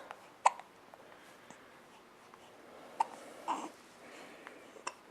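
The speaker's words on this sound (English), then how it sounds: "Oh, now you got the hiccups." Quiet, short hiccups from a five-week-old baby girl, about three or four soft bursts spread irregularly across a few seconds, with faint breathing noises in between.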